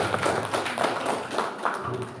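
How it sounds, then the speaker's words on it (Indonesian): Participants at a digital marketing workshop clap for the speaker. The scattered hand claps come in soft irregular bursts over low room noise, faint and brief. "Dan boleh kita kasih tepuk tangan kepada Mas Nandanya"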